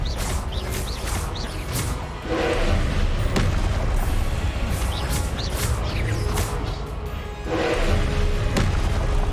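Confringo and Expelliarmus spells cast in the Hogwarts Legacy video game, heard as dense, continuous booming blasts and crashing impacts that keep the mix loud throughout.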